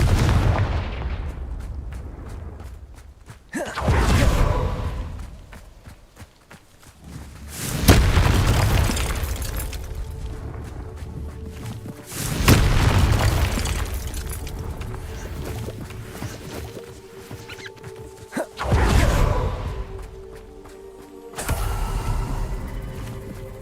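Confringo spell explosions in Hogwarts Legacy on PC: four or five heavy booming blasts spaced a few seconds apart, each with a sharp crack and a long rumbling decay, loud and close with no talk.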